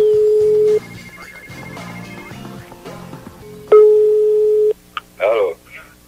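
Telephone line signal tones: a steady beep, then fragmented tones and a second long beep, followed by a short burst of ringing.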